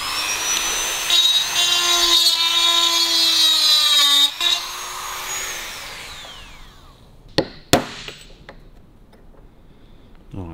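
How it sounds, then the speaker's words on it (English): A Dremel grinds the edge of a roller tappet on a WWII Harley-Davidson WLA. A loud high whine holds for several seconds, then winds down and fades. A few sharp metallic clicks follow. "So you're trying to dremel that edge out so you can get down to the actual diameter size and then it should punch out."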